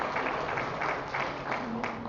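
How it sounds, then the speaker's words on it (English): A community meeting audience claps in a short burst of applause, a fairly even patter of many hands heard at a moderate level throughout. "Let's have a big round of applause for our senior leads."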